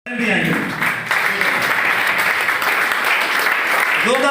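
Loud, sustained applause from an audience at a celebration function on stage, continuous clapping throughout with a few voices briefly heard at the start and end.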